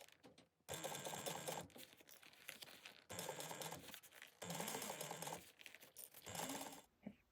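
A sewing machine bastes a sling backpack flap in place at a 1/8-inch seam, running in several short bursts of rapid stitching separated by brief pauses, close and clear.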